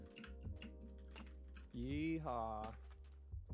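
Quick keyboard keystrokes click in the background of a Minecraft gaming session, while a voice briefly whoops over the taps partway through.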